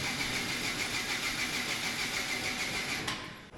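Homemade snow blower engine running on its own, a steady close mid-pitched mechanical drone at even speed that cuts off abruptly near the end, with no talking.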